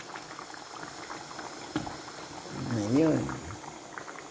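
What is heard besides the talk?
dinuguan (pork blood stew) simmering in pot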